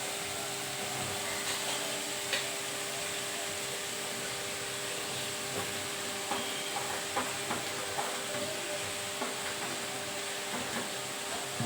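Chopped shegla vegetable added to hot oil in a pan, a steady loud sizzle and hiss of frying with scattered light clicks and stirring taps throughout.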